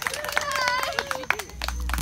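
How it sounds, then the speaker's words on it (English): Small informal crowd of adults and children clapping and cheering for a young performer, scattered claps mixed with excited voices and chatter close by. "Give a round of applause for Zoe."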